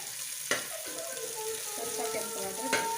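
Onions sizzle and fry in a pan on a home stove while fish curry and fried fish are being cooked, a soft steady crackle with a couple of spoon clinks against the pan.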